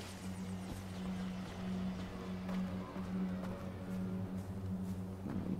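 Gyrocopter from Far Cry 4 flying steadily, a low droning rotor and engine hum held at an even level throughout, with faint background game sounds.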